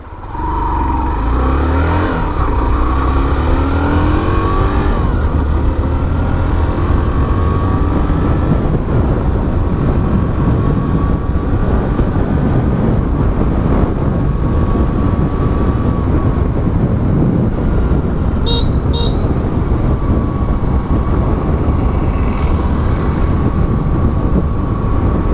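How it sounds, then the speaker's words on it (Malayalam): A Hero Glamour 125 i3s motorcycle accelerates on an open road, its engine tone climbing steadily and holding a loud, continuous drone with wind rush throughout, no voices. "അത്യാവശ്യം നല്ല രസമായിട്ട് തന്നെ വണ്ടി കയറി പോകുന്നുണ്ട്."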